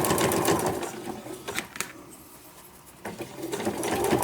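A sewing machine stay-stitches the ends of a fabric sewing roll in short bursts of rapid mechanical stitching, pausing briefly mid-way, recorded up close and heard alone.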